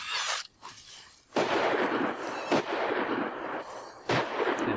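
Grenade explosions in the Firefall shooter game, a series of loud broadband blasts, one near the start, one around a second and a half in, and more sharp bursts later, with a dense crackling rumble between them.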